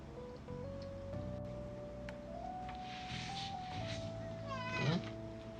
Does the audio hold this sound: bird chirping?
no